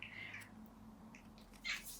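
A cat gives a few short, quiet chirping calls, high and brief, against a low background hum.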